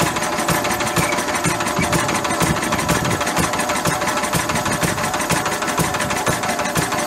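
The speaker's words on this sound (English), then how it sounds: "Listen to it, right? Listen to the revs as I take it up." A Lister D diesel engine coupled to a generator runs loud and close with a rapid, even knocking beat, its revs held high and steady.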